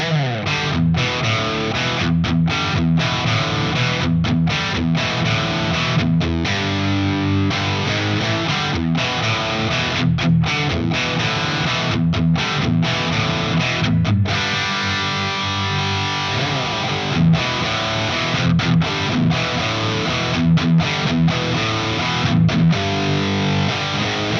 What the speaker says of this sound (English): Just this and the gold plate reverb is a great late 70s, early 80s rock and metal tone.